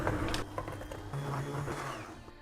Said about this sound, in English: Then using a hand blender like this, I'm going to mix this up.